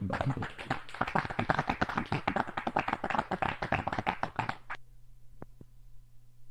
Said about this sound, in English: give me some applause if you will